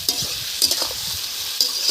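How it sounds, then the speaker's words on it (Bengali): Onions fry in a pan for a village-style duck curry, giving a steady close hissing sizzle broken by a few sharp stirring scrapes and clinks. "পেঁয়াজ ভাজা হয়ে গেছে দেখুন"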